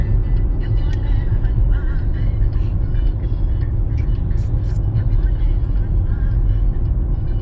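A car rolls along a rain-damaged road in the morning, a continuous low rumble of engine and tyre noise that stays steady and close throughout with no clear pass-by peak.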